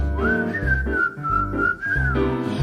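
Someone whistles a bright, sustained melodic line from a song, loud and close, with a few gliding phrases over a bouncy accompaniment of low piano or bass notes.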